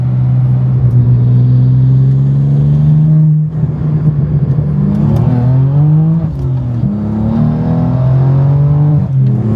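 A BMW G80 M3 running on E40 fuel accelerates hard, its engine droning loud and close, then rising through gears with clear shifts and climbing pitch, no talking over it.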